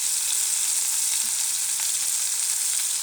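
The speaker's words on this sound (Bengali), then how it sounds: "এখন আমি ভালো করে কষিয়ে নেব।" Meat fries in a pan with a spice paste of ground onion, garlic, ginger, cumin, cloves, cardamom, pepper, cinnamon and chili, plus turmeric and salt, giving a loud, steady, close hissing sizzle with no talking.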